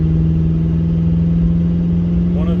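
A car engine hums steadily while driving down a mountain, a constant low drone running under someone talking throughout.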